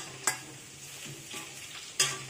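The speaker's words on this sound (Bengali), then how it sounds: "এদিকে আলু ভাজা হচ্ছে" Potatoes frying in a pan, heard as a soft, steady sizzle with a couple of sharp utensil clinks.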